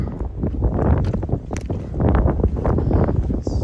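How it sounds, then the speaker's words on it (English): Strong wind buffeting the microphone on a mountain summit along the Appalachian Trail, loud gusty rumbling and roaring that rises and falls with no break. "The wind is actually blowing us around up here."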